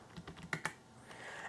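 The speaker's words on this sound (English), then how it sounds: "So we'll type ROS2 run Teleop Twist Keyboard." Keystrokes on a computer keyboard entering a ROS2 teleop command, a quick run of light clicks with two sharper taps in the middle, close and clear with no talking.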